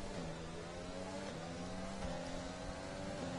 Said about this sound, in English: I think it's time to open up the engines on this final lap